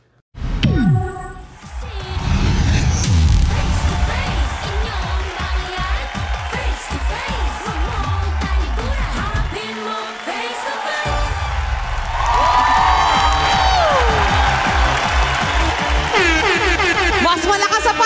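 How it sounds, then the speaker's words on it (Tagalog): A studio audience at a Filipino television talk show claps and cheers loudly and continuously, a dense roar of applause with whoops and a brief horn-like blare near the start, holding steady for most of the clip. "Mas malakas sa palakpakan at sigawan!"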